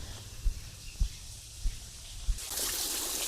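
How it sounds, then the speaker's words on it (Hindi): Jungle waterfall flowing beside a rock shelter: a few soft low thumps, then a broad rush of falling water swells up loud and steady for the last second, with no talk. "ये रहा झरना, कितने अच्छे तरीके से बढ़िया सा बह रहा है"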